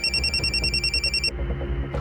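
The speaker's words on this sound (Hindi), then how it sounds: "उसी नंबर से फ़ोन आया" A telephone rings with an incoming call, giving a loud electronic bell pattern in fast repeating pulses that stops partway through, followed by a low background hum.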